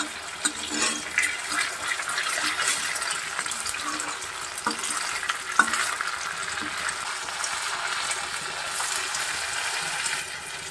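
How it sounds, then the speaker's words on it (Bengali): Chhana (cottage cheese) balls fry in hot oil, a soft, steady bubbling sizzle with a few sharper crackles and light clinks, moderately quiet and continuous, with no voices. "ছানার নাড়ুগুলোকে আমি ভেজে নিচ্ছি।"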